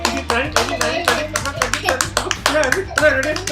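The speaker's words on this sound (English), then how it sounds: "it's only 40 claps" Hands clap steadily at a birthday gathering, a quick even run of sharp claps with a child and adults counting aloud over them, close and lively.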